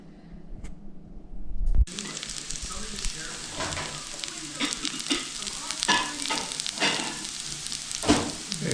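Steady crackling and sizzling of food cooking on an outdoor grill, with scattered pops and a voice heard briefly in the background.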